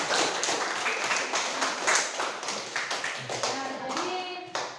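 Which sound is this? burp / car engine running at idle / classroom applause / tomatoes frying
classroom applause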